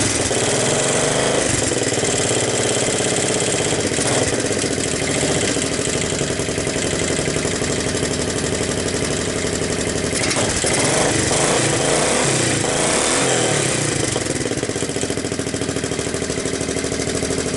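A Honda ATC200M ATV engine with a new spark plug and the choke on runs loudly and close, a steady buzzing idle with small surges in speed and no talking.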